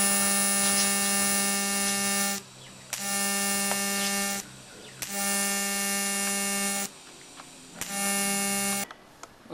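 Electric welding on top of a metal pyramid structure: four long steady buzzing welds separated by short pauses, loud and close, with no talk.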